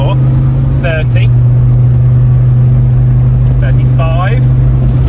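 Old Land Rover driven with its engine at full throttle, a steady loud drone heard from inside the cab, while people talk briefly over it.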